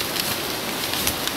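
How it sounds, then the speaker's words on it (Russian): Rain falling in the mountains, a steady close hiss of drops on surfaces with scattered louder patters; no thunder stands out in this short stretch. "И гром гремит, и дождик."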